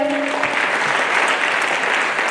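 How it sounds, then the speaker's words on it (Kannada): A hall audience bursts into loud applause at an award event honouring doctorate holders, a dense burst of clapping that fills the short stretch after a brief tone fades. "ಜೋರಾದ ಚಪ್ಪಾಳೆ."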